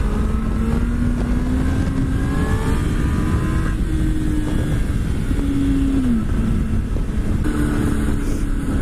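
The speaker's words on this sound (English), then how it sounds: "I'm going to pop that clutch, keep my position back, and I'm going to stay into the throttle and try and keep that front end up." A motorcycle engine revs hard as the clutch is popped for a sit-down wheelie, a continuous close drone with tones that rise and fall as the throttle is held open.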